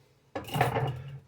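A metal ladle and spatula clatter against kitchen pans while making banana pancakes, a sudden close clank followed by about a second of ringing, scraping handling noise.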